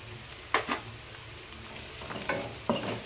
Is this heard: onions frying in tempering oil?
yes